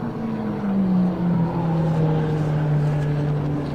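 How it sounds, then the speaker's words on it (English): A Taranis racing car's V8 engine roars past on a circuit at Silverstone, a deep droning note that slides downward in pitch as it moves away, loud and steady for a few seconds. "That thunders its way out. Gorgeous sounding V8."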